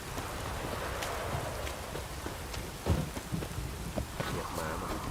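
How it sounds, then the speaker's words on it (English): A heavy rain downpour in a video game pours steadily and close, dense hiss with scattered louder splashes and a low rumble, under faint talk. "This downpour's a bastard it is."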